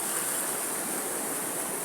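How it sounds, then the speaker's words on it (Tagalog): Strong ocean waves, a steady loud roar of surf and rushing water filling the whole stretch with no break, close and constant. "Tingnan nyo guys, yung alon malalakas."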